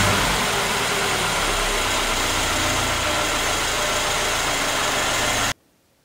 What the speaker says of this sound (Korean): A35의 엔진음은 꽤 날카롭게 갈갈거립니다.